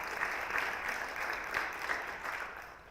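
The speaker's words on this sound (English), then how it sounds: "So please give a round of applause for George and his treasurer's team." An audience claps steadily for a school district's treasurer team, a dense, even wash of applause at moderate loudness that carries on throughout.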